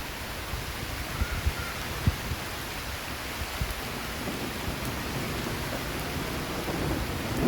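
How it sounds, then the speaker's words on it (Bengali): Heavy rain falls steadily in Saidpur district, Bangladesh, a dense, constant wash of drops on surfaces with deep rumbles of thunder rolling underneath and occasional louder thuds, with no speech. "অনেক সুন্দর বৃষ্টি হইতেছে"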